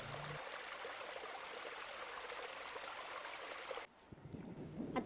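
A small forest stream flows continuously with a soft, even, trickling rush, quiet and steady, then briefly dips and picks up again near the end.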